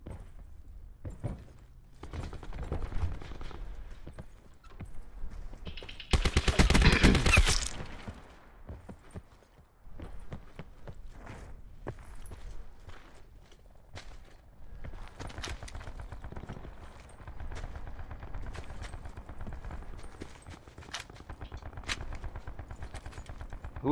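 Gunfire in a Blackout battle-royale video game: bursts of shots with a loud, dense volley in the middle, scattered hoofbeat-like clacks and thuds around it, no talk.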